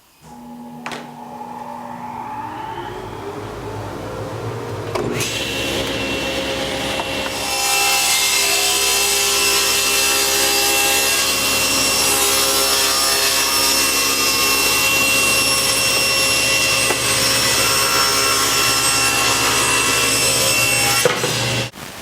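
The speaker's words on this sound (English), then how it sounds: "I'm going to rip this in half to form our trim pieces." A SawStop table saw fitted with a dado stack rips a wooden board in half lengthwise to make trim: the motor spins up with a rising whine, then the blade bites in for a loud, steady, close cutting roar that holds to the end.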